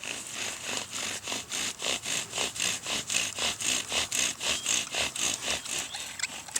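A bow drill grinds into wood in a fast, regular back-and-forth rhythm, each stroke a rasping scrape, close up and steady.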